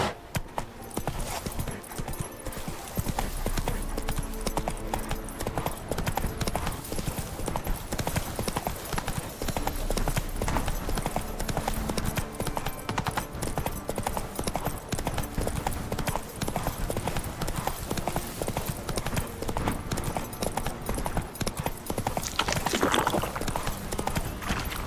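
Roach, a horse in The Witcher 3, clip-clops along in a steady rhythm of hoofbeats that runs through the whole stretch, with game music and ambience layered underneath and a brief whinny near the end.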